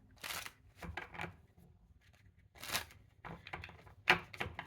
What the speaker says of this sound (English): Oh, that was not a good shuffle.